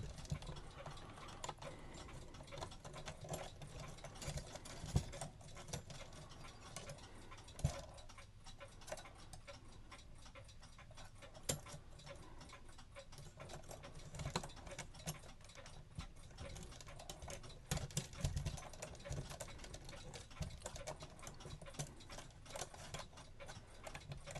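An 1870s Ogee weight-driven clock ticks steadily and faintly, its regular beat running through a dense mechanical background with a few sharper clicks, and no voices present.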